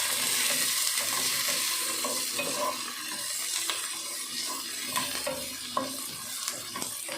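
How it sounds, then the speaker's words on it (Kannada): Whole spices (mint, cinnamon, cloves, black pepper and chickpeas) fry in hot oil, giving a constant close sizzle with scraping stirring strokes and clinks throughout, and no voices. "1-2 ನಿಮಿಷ ಹುರ್ಕೋಬೇಕು ಚೆನ್ನಾಗಿ"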